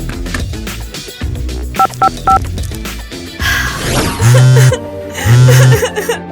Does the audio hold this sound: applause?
no